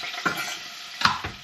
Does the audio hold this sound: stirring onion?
yes